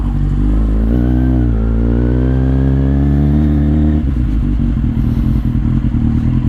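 A Kawasaki Z800 motorcycle revs hard while ridden, attempting a small wheelie, its loud engine note climbing steadily for about four seconds before dropping off into a rougher, lower idle-like rumble.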